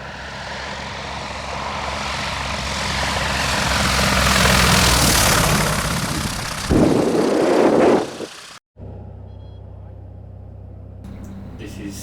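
A light airplane on approach for an aborted landing at Samara airstrip in Costa Rica; its engine drone swells loudly, then gives way to a rough rushing burst before cutting off abruptly.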